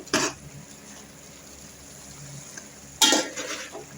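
Chicken cooking in a pan gives a low, steady background sizzle, broken by two loud bursts of scraping and stirring, one near the start and one late.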